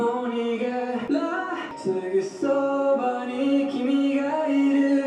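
A lone lead vocal carries a melody, its held notes sliding between pitches, clear and close with nothing else underneath, from a Japanese-language cover of a song.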